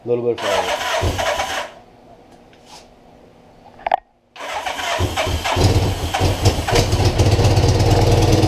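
1983 Suzuki GS850L motorcycle engine, cold and choked, cranks and sputters, pauses, then fires and keeps running with a rough, loud close idle.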